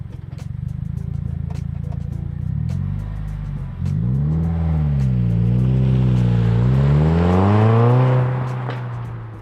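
A 2011 to 2018 Subaru WRX/STI sedan with a GrimmSpeed catback exhaust idles with a deep burble, then blips its throttle in a series of rising and falling revs before settling, loud and close.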